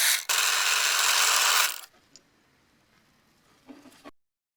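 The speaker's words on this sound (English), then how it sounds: "Let's bore 2 holes to connect the wires." A power drill bores into a small iron or aluminum bar, a loud high whine for about a second and a half that cuts off, followed by faint handling clicks.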